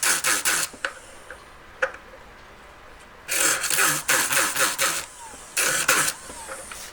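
Coarse whizzer wheel cleaning up a jewelry ring casting, several loud close bursts of harsh abrasive grinding separated by quiet gaps and a few small clicks.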